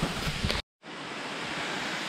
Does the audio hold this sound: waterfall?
yes